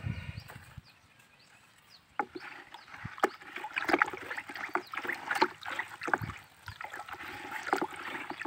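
Liquid fertilizer mixture stirred in a container, with irregular sloshing and splashing that starts quiet and grows busier after a couple of seconds, close and fairly soft.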